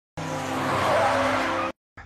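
In a drama scene, a car screeches to a stop with a loud, sustained tire squeal lasting over a second, then cuts off abruptly, followed by a brief short burst of noise.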